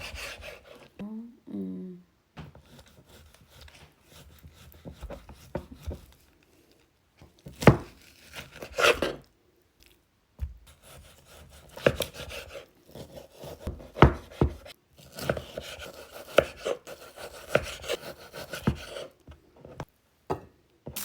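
A knife slicing through tenderised cooked meat on a cutting board in a home kitchen, with irregular close rasping cuts and sharper taps of the blade against the board, coming in uneven bursts with quiet gaps.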